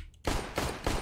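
Rapid gunfire in the game CS:GO starts abruptly after a brief quiet and repeats in three loud bursts, close and punchy, with no talk over it.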